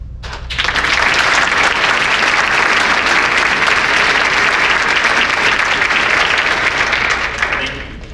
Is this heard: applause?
yes